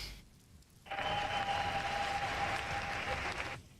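Women in the audience at a Donald Trump event clapping, a sudden burst of dense, steady applause that starts abruptly, holds evenly for almost three seconds, then cuts off, heard faintly as if from a distance.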